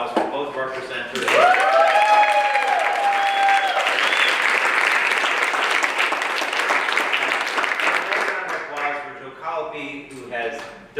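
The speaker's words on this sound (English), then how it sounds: "Can we get a special round of applause for both of our presenters?" Loud audience applause for two presenters at a talk event, swelling quickly and holding dense before thinning out near the end, with cheers and voices calling out over the clapping.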